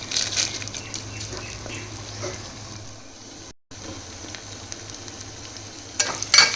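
Onions sliced with four cut green chillies and a pinch of salt fry in a pan, producing a continuous low crackling sizzle close by. It cuts out for a moment, then resumes with a few louder pops at the end.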